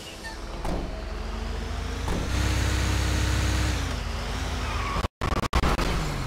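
A truck drives in GTA 5 with a steady engine drone and rising revs, a tire-squeal sweep in the middle, and a brief cut-out near the end.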